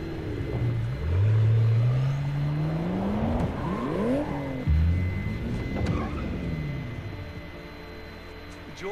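A McLaren P1 in Need for Speed Payback revs and accelerates with rising engine pitch, shifting up through sweeping whines, loud and close, with a low rumble beneath.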